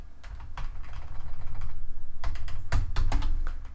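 Rapid typing on a computer keyboard, close and continuous, with a flurry of louder key clacks near the end.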